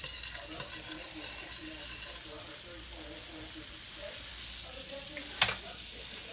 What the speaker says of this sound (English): Put a little tiny bit of butter in the pan.